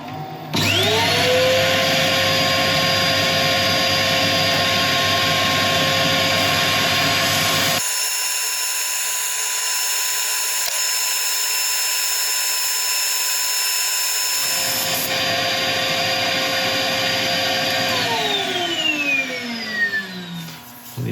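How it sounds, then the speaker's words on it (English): A wood lathe spins a turned piece during sanding, its motor whining up to a steady loud drone, holding for a long stretch, then winding down near the end, with no talk. "I'll let you watch the start of the sanding"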